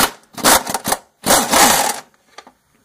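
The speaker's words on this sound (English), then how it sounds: "I'm using my air gun. You can also do this without air tools." A pneumatic air impact gun working the front shock nuts on a Corvette C5/C6, two loud, close, rattling bursts of hammering with a brief gap between them.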